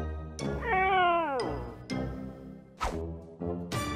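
Tofu the cat meows close by in a string of loud, drawn-out cries, one long wavering wail followed by several shorter meows spaced a second or so apart.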